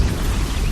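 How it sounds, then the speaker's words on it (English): A bomb detonates in Horizon Zero Dawn, a dense, loud, sustained rumble with heavy low-end roar and crackling debris filling the whole moment without a clear single attack. "that's still one hell of an explosion"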